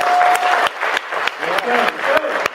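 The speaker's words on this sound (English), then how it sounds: "I need you to put your hands up and clap" Audience at a live awards show for a bait-making small business organization claps in uneven bursts with cheers, while a voice calls out briefly.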